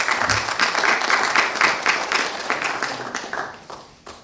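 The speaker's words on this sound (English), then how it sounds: "let's give the Old Colony Planning Council panel a nice round of applause" Conference audience applauding a planning council panel, loud, dense clapping from a nearby crowd that holds steady and then thins and tapers off toward the end.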